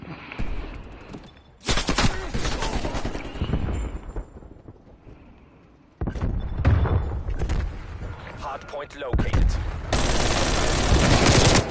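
Loud, sustained automatic gunfire from Call of Duty Black Ops Cold War played on PS5, arriving in long dense bursts with a brief quieter gap between them.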